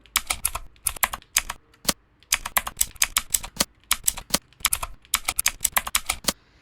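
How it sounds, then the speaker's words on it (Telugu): Keys clatter on a computer keyboard while text is typed into Notepad, in quick close bursts of rapid clicks separated by short pauses. "ఇక్కడ టైప్ చేస్తున్నాను చూడండి"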